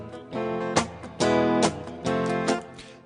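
Guitar strummed aggressively with the thumb wrapped around the back of the neck, in a down, down, up pattern mixing full chords with choked, muted dead strokes; close and fairly loud, with a percussive rhythmic chop and no voice.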